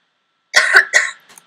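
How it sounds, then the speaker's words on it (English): A single cough followed by a second cough and a faint throat-clearing tail, loud and close, heard alone with no talking. "Okay, there's my cough."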